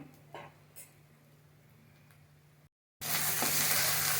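Ground spices, turmeric and Kashmiri red chilli, sauté for misal, first as a faint hiss with light pan knocks, then after a brief gap a loud, close sizzle.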